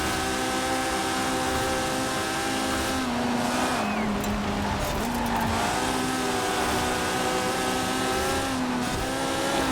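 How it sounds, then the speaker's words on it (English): A Honda S800 engine in Forza Horizon 4 revs steadily with rising and falling pitch, loud and continuous, building RPM before a racing launch, with no talking. "you actually hear like the engine like revving up when you're racing before"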